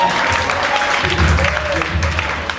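A church congregation at a prophetic service claps together in steady, dense applause throughout, loud and close, with some murmuring voices mixed in.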